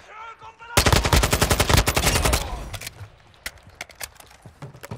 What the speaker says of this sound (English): Oh snap. I'm getting shot at.